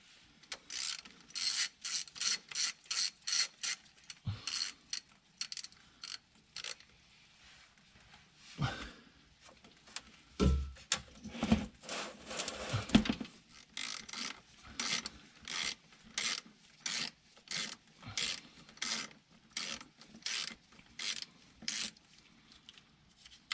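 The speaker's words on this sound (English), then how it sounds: "Just got a longer extension because these bolts are really inside there." Ratchet on a long extension loosening transmission pan bolts on a GMC Yukon XL Denali, heard as repeated rapid ratcheting clicks in regular bursts, with a few thuds and scrapes in the middle, close and moderately quiet.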